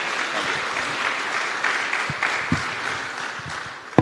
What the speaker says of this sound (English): Please, warm round of applause for Pedro and for Michael.